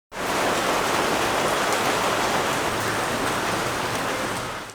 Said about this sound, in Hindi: and with this thunder rain I think the monsoon is in